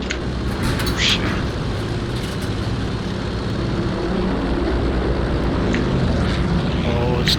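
An airplane engine drones steadily and loudly in a video game, a continuous propeller-like roar with no break.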